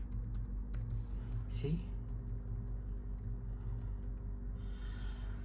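Fingers type on a Logitech MX Keys keyboard, giving a quick patter of soft key clicks up close that trails off midway. Someone speaks briefly partway through.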